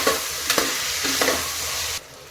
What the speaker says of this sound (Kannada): ಇದು ಕೂಡ ಈಗ ಇದರೊಟ್ಟಿಗೆ ಫ್ರೈ ಆಗಬೇಕು.